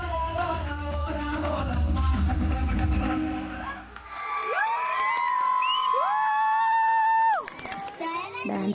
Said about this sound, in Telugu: స్టెప్స్కి పేరెంట్స్ అందరైతే గోల అరుపులే.